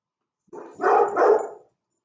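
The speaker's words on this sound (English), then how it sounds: "I don't know if you can hear her bark, but if you can, I'm sorry. She barks at everything." An indoor dog lets out a quick, loud bark, one burst with a doubled peak, alone in an otherwise silent room.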